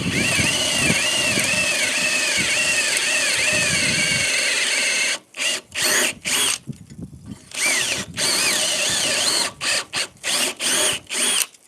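A handheld power drill whirs loudly and steadily for about five seconds, then runs in a string of short bursts separated by brief pauses, with a sweeping whine on top during the first continuous stretch.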